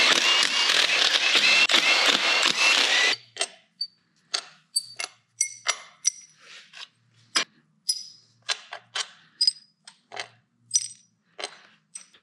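Intake bolts come out of a Ford 351W 5.8L V8. A loud noisy burst, likely an impact or power tool, is followed by a long run of sharp metallic clicks and clinks at an uneven pace, close up and without talk.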